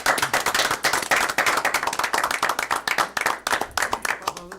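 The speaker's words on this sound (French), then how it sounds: "Nous, on devrait vous applaudir parce que vous le méritez." Sustained clapping from an audience at a municipal council meeting, many hands beating in dense, uneven bursts close to the listener, holding steady for several seconds.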